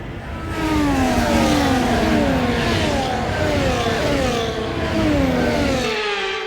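F1 race cars on the formation lap at Monza in F1 24 roar past one after another, their high engines rising and falling in repeated revving sweeps, loud and continuous.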